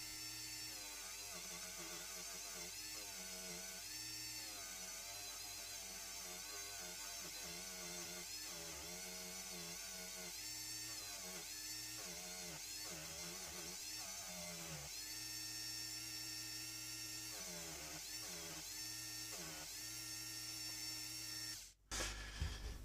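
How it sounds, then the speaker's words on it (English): A rotary tool fitted with soft wire brushes cleaning dirt off an antique Gibbs of Bristol over-and-under pistol, a quiet steady whine with wavering pitch as the brush works the metal, then stopping abruptly near the end. "I'm just gonna use these wire brushes. They are really soft, so they won't damage the finish, and just to get the dirt off really."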